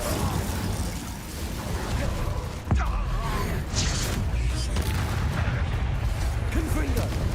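Incendio fire spell cast in Hogwarts Legacy, heard as a sharp burst around the middle of the clip over dense, rumbling game noise and mechanical creaks that continue throughout.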